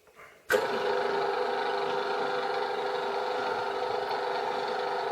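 After a brief quiet rustle, a dough kneading machine for sourdough bread switches on with a sudden thump and settles into a steady, loud motor hum and whir that runs on unchanged, with no talking.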